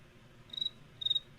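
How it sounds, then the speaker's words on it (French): Two short bursts of cricket chirping, each a bright, rapid trill lasting about a fifth of a second, separated by a brief pause over a faint, quiet background. "Bruit de grillon."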